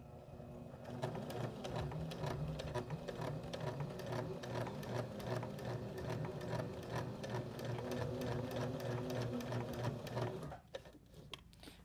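A sewing machine stitches a car freshener with the needle down, running a steady, rapid mechanical rhythm close up for about ten seconds before stopping.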